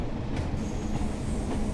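A passing train in Train Sim World 4 on a UK route gives a steady, dense low rumble of wheels on rails, with faint rhythmic clicks and a light squeal, heard close and without talk.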